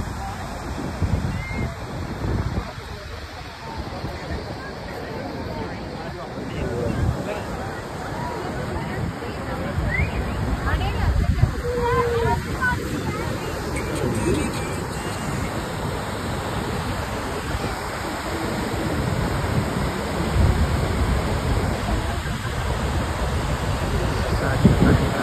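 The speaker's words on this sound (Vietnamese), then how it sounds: "Đây là thác nổi tiếng nhất trên thế giới giữa Canada và Mỹ" Niagara Falls at night between Canada and the United States, a loud, continuous roar of falling water that fills the whole stretch, with crowd murmur and wind blended into the steady wash.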